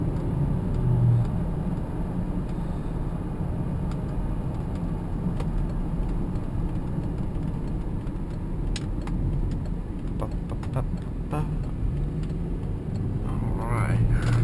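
A Volvo XC70 Cross Country heads onto the interstate, a steady low road rumble and engine drone with tire noise filling the cabin, while a voice talks now and then over it.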